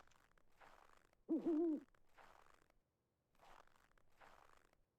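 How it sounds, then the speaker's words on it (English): An owl hoots close by in the UnReal World game, set in Finnish marshland at night: one short, loud wavering call stands out between quieter stretches of ambient game sound. "I heard an owl. There's an owl nearby"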